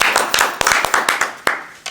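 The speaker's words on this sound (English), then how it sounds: "Round of applause, round of applause" Small room of people giving a round of applause for a guest, quick uneven hand claps from a few people, close and fairly loud over a brief stretch.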